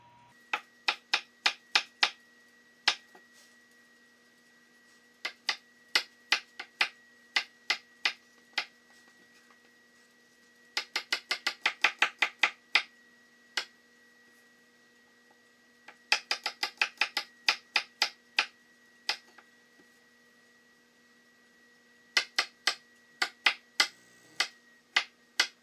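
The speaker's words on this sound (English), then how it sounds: "So we're going to cut up this garlic right now and start mincing it" Knife chopping and mincing garlic on a cutting board in a home kitchen, sharp close taps coming in quick bursts of rapid strokes separated by short pauses, with no talking.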